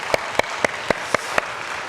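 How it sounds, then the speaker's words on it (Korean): Congregation at a Korean Sunday worship service claps in praise, heard as six evenly spaced, sharp, loud claps in a steady rhythm, close and alone without talk. "박수를 치려면 크게 치고요."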